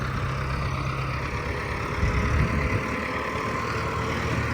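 A CRDI tractor engine, a 65 HP unit upgraded by 25 HP, runs steadily with a low, dense rumble at constant loudness, close by and with no talk.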